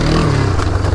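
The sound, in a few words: motorcycle revving during a wheelie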